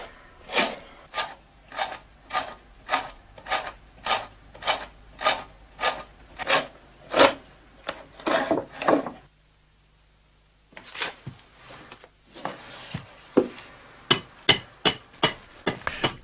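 Hand axe or hatchet chopping and trimming a wooden chair seat, a steady series of about fifteen sharp, evenly spaced blows with a short pause midway, close and clear with no talking.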